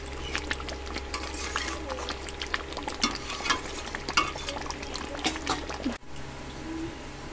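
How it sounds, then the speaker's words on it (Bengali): Mutton sautés with spices in a pan, with wet stirring scrapes and a moderate, uneven sizzle, then a sharp cut to a quieter, softer simmer near the end. "ভালো করে আমি কষিয়ে নিচ্ছি"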